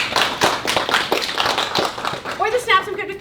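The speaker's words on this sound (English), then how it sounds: "Lorraine, everybody applaud Lorraine." A small audience in a discussion group claps for a participant, a loose scatter of individual hand claps and taps at close range, fading out as a voice begins speaking near the end.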